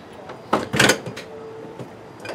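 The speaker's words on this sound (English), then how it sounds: "Let's close the door." An RV entry door closing after a new RV Lock V4.0 installation: a few sharp wooden-sounding knocks and a latch click close up, followed by a softer thump and a faint rattle, with no talking.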